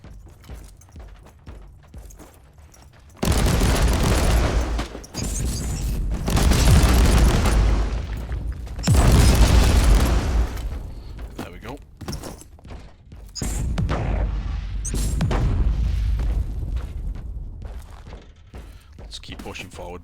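Heavy turret fire in the Warhammer 40,000: Inquisitor Martyr video game, loud booming bursts in several long volleys separated by brief lulls, under game sounds.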